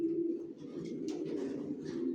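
Racing pigeons in a loft murmur and coo in continuous low throaty tones, close by, with soft rustles and light flutters on top.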